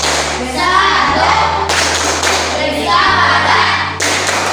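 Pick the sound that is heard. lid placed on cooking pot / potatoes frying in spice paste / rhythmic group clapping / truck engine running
rhythmic group clapping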